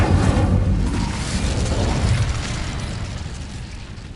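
An Incendio fire spell cast in Hogwarts Legacy bursts out as a loud, roaring whoosh of flame that slowly fades over a few seconds.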